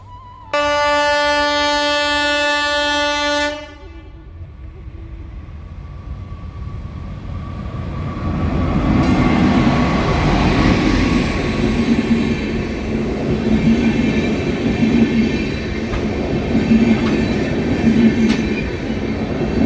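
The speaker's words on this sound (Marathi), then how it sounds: "आता रेल्वे येऊन राहिलेली" A long train horn blast sounds first, then a train rumbles past close by, growing louder with rhythmic wheel clatter on the rails.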